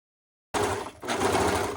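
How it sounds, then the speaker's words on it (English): A serger overlocks the edge of T-shirt fabric, starting abruptly after silence as a steady, close mechanical whir, breaking briefly near the middle before running again. "you see how the serger's just encasing the material on both sides"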